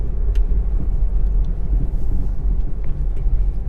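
A car creeps in second gear over a gently sloped speed breaker in city traffic, giving a steady low engine and road rumble with a few faint clicks and no speech.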